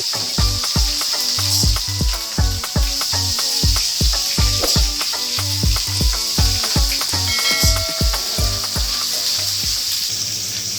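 Taro leaves being fried with spices in a wok give off a steady close sizzle, with rhythmic stirring scrapes that repeat throughout.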